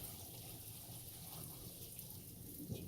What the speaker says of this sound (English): I'm going to use the strainer to strain away all the water.